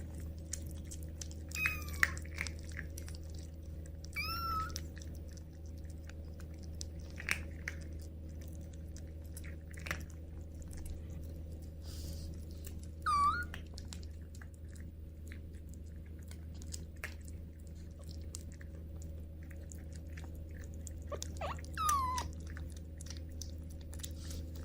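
Kittens chewing and eating food at close range, with soft wet squishy bites and small crunches scattered across a steady low background hum, plus a few faint high mews.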